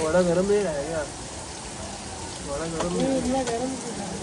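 Steady rain patters on a surface in the background while people talk nearby in short bursts.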